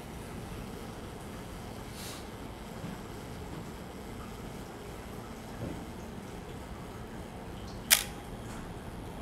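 A Nikon FM film camera's mechanical self-timer runs with a faint, steady whir in a quiet room, then one sharp shutter click near the end.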